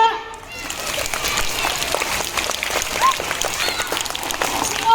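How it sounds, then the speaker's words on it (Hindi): An audience at a teachers' street play for the Azadi ka Amrit Mahotsav celebration claps steadily, a dense, loud wash of applause that rises after a brief quieter start, with children's voices mixed in. "तालियां।"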